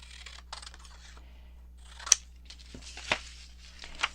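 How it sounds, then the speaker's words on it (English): Scissors cutting a photo for a junk journal frame, a few crisp separate snips close up, with quiet paper handling between them. "you just have to cut the photo a little bit bigger than your frame"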